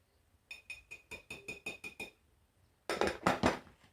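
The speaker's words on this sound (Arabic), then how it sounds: "وهلا بدنا نخلط كل هالمكونات مع بعضها" A spoon taps and clinks briskly against a bowl while spices for a meat tray are mixed, first a run of light rhythmic chinks, then a louder rattling flurry of scraping and clatter.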